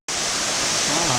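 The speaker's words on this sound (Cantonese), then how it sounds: "呢個就係小瀑布嘅源頭啊" A small waterfall at its source on the Wu Tong Chai trail, a sudden, loud and constant rush of falling water heard close by with no talk.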